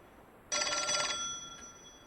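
A single bright telephone ring in the L.A. Noire video game at Kelso's apartment, a buzzing bell burst of about half a second that fades into quiet room tone.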